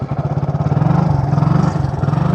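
A motorcycle engine is revved hard without the clutch, giving a loud, close, rapidly pulsing throb that holds steady throughout.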